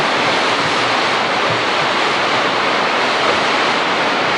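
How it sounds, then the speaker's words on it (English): A great big waterfall on the road to Hana in Hawaii roars as a loud, steady broadband rush of falling water, close and unbroken, with no voices. "Great big waterfall."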